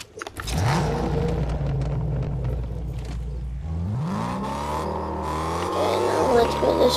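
A video game car engine hums steadily with low tonal drone, then revs and shifts upward midway, rising in pitch, with game music or effects and a voice talking over it.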